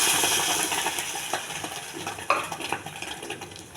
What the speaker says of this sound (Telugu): ఇది చేసి పెట్టుకున్న పప్పు ఈ తాలింపులు వేసేయాలండి